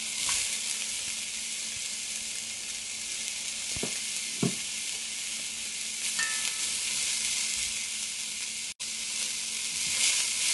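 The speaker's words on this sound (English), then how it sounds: "First, I'm adding the carrots and I'm going to stir these for about 2 minutes." Carrots, thyme and onion stir-fry in oil, giving a steady bright sizzle throughout, with a few soft clinks from the stirring utensil and one sharp knock near the end.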